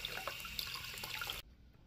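Water runs from a tap to fill a bath for a guinea pig, a bright, even splashing that stops abruptly after about a second and a half.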